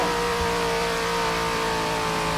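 Sports car engine in a Roblox driving game, ramp jumping, drones loud and steady with a sustained revving tone, no speech over it.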